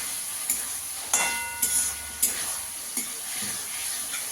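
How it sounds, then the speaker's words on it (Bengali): Paneer cubes stir-fried in a hot pan for paneer pulao: a steady sizzle broken by rhythmic spatula scrapes and knocks about every half second, close and fairly loud. "পনিরটা দিয়ে ভালো করে কষিয়ে নেব।"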